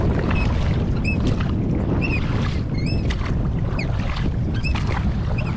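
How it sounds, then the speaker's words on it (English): Paddling a small boat through waves, with constant wind and water wash roaring close to the microphone while faint bird calls chirp at intervals above the rush. "Wave coming. Okay, keep paddling straight."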